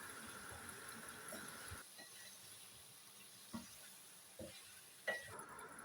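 Macaroni is stirred in oil in a pan, giving a soft steady sizzle with a few faint scraping knocks from the spoon.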